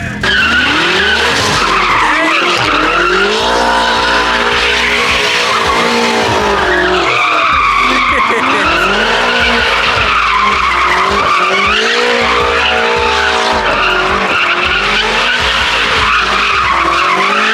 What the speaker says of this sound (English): This rubber is currently burning up hard.